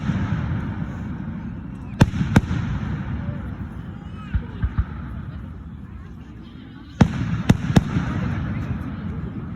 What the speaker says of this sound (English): Do it after the fireworks.